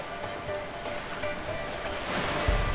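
A boat heading into rough streams in the A Way Out game, with a steady roar of rushing water and wind, splashing surf building slightly louder toward the end.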